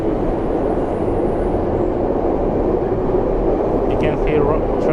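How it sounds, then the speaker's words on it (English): Steady low rumble of a Sobu Line commuter train running past at moderate distance in Tokyo, continuous and broadband, with a faint high squeal near the end. "You can see train running. This is the Sobu line."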